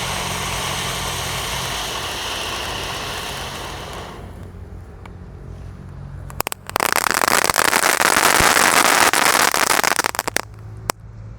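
A 4-inch conic fountain firework burns with a steady, loud rushing crackle that drops away briefly, then surges back into dense continuous sparking with a few sharp pops, no voices present.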